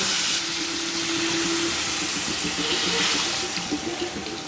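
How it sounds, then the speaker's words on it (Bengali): Water poured into spiced potato curry in a pan makes a loud, continuous rushing hiss that fills the clip and eases off slightly toward the end. "কষিয়ে হয়ে গেছে এবার দেব জল"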